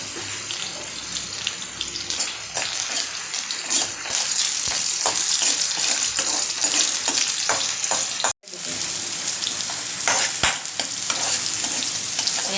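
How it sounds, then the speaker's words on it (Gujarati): Garlic cloves and cumin in hot ghee for tempering: loud, continuous sizzling and crackling with scattered sharp pops, briefly cut off once, then resuming steadily close by. "તો આપણે ઉપરથી પાછો ઘીનો વઘાર કરશું"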